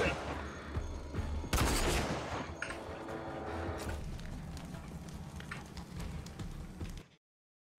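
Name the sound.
weapon firing in a Gears video game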